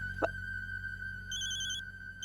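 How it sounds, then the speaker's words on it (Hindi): A phone rings with a steady electronic tone and a brighter warbling burst partway through, heard close over a low background hum, with no talking. "डीएसपी सर का फोन आ रहा है"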